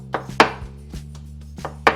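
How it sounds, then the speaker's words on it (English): A big knife chops tender cooked pork carnitas on a board, making a few sharp, irregular chops close by with short pauses between them. "what they do is they get like a big knife and chop"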